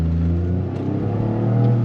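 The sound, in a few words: 2025 Toyota GR Corolla accelerating, 8-speed automatic shifting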